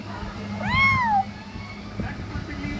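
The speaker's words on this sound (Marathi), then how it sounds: "मांजर काही जायचं नाव घेतलं आमच्या घरात" A house cat lets out one clear, drawn-out meow close by, rising then falling, while someone talks softly in the background and household noise continues.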